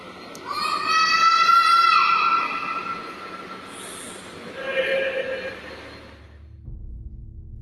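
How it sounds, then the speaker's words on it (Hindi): A young boy screams at a railway station, a single drawn-out wail that echoes and then trails into fainter cries and low rumbling. "एक छोटे लड़के के चिल्लाने की आवाज यहां गूंज रही थी।"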